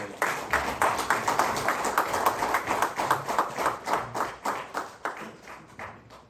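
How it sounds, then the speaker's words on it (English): An audience at a lecture on Nigerian, African and African American culture claps in a rhythmic, nearly unison beat, a quick steady pulse of hand claps that slowly loosens and fades toward the end. "I'd like you to join me in giving a round of applause"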